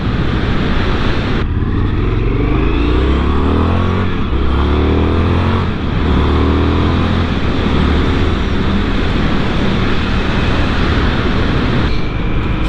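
An Indian FTR 1200 S motorcycle runs on a test ride, its engine a loud, steady drone with rising and falling pitch as it pulls through the revs, overlaid by heavy wind rush from start to finish.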